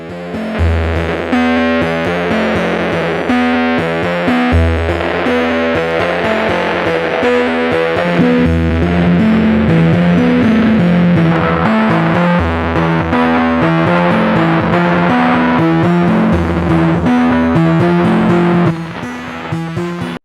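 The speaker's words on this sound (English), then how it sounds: "supercharged, so it's a different type of distortion" A supercharged distortion plugin drives loud, gritty, heavily saturated music with a rhythmic, pumping low end, running continuously with no talking.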